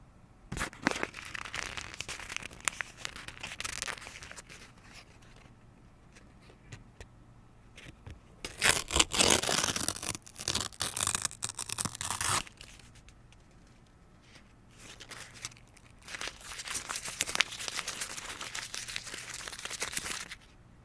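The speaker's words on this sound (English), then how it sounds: "A little paper sound check there." Paper is crumpled and torn close to the microphone, with three bursts of crinkling and ripping separated by quiet pauses.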